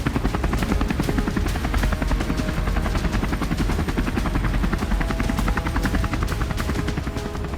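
A military helicopter flies over the Black Sea, its rotor thumping in rapid, steady loud beats throughout, with no voices present.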